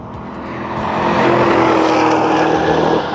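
A 2010 Chevrolet Camaro SS V8 engine roars and builds as it accelerates, loud and close, a steady rising rumble with no voices.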